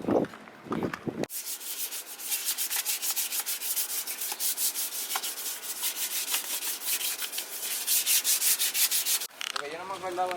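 Sandpaper on a block rubbed back and forth over the engine bay of a turbo Honda Civic, a loud, fast rhythmic rasping of close strokes between brief pauses, with a voice at the start and end.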